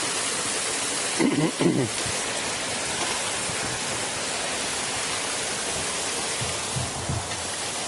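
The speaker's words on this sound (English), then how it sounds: "This lock is closed, letting a little bit of water through" Water pours through a closed canal lock gate in Utrecht, a steady broadband rush close by, with brief faint voices or footsteps passing over it.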